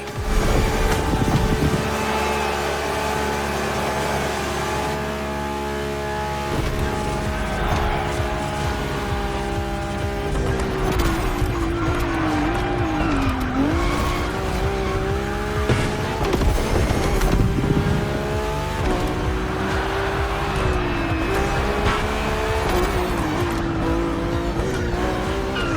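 A Ferrari F80 supercar in The Crew Motorfest drives with a constant engine roar whose pitch rises and falls through gear changes, steady and loud throughout the long stretch.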